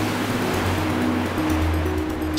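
Cartoon magic water current flowing steadily as a continuous broad wash, with a low droning tone underneath, loud and close with no talk.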